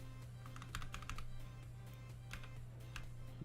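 Fingers tap quickly on a budget computer keyboard in short bursts of clicky keystrokes, close and fairly quiet over a steady low hum.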